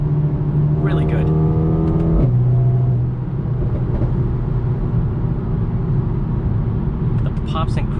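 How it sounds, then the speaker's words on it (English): Mercedes-AMG A35 (2021) engine revving with exhaust pops and crackles, a loud sustained engine note that drops in pitch midway, with sharp crackles near the end and a voice speaking over it. "The pops and crackles from this exhaust just makes you laugh every time you hear those pops and crackles."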